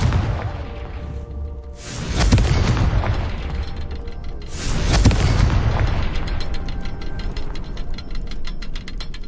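Two booming blasts of the Confringo spell go off in the video game Hogwarts Legacy, each a heavy explosion followed by crackling and rumble, loud and close, with no talk.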